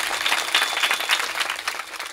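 An audience claps at a kirtan, a dense burst of applause from a crowd close by that continues without pause.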